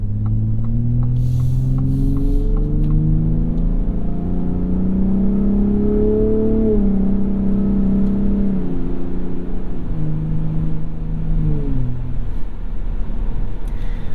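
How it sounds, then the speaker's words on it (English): A 2021 Ford F-150 Raptor engine rumbles loudly from inside the cab as the truck accelerates, its pitch climbing then dropping through several smooth upshifts of the 10-speed gearbox. "smooth shifts here in normal mode from that 10-speed"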